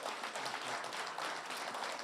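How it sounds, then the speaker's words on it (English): A crowd applauds a Disney Imagineering panel at a Twilight Zone Tower of Terror 30th anniversary event. Dense, continuous clapping fills the whole stretch at an even, strong level, with no talking over it. "can we have a round of applause?"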